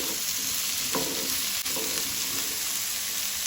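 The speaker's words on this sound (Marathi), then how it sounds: "आतां हांव तातूंत घालता कणगां जी हांवें सोलून दवरल्या" Peeled kanga (lesser yam) frying in a pan of hot oil for a Goan-style sabji, a steady close sizzle with a brief louder burst as the pieces go in.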